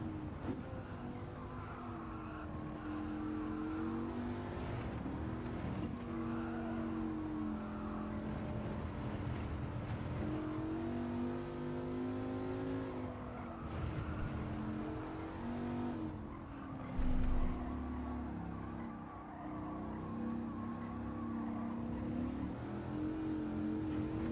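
A race car engine in Gran Turismo 7 drones steadily during a time trial, revving up and down through the gears with smooth rising and falling pitch, loud and continuous from start to finish.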